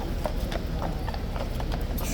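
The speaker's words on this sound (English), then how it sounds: "How spectacular are those horses." Horses of the King's Horse Guards step with quick, evenly spaced clip-clops of hooves on hard ground, fairly close, under light background chatter.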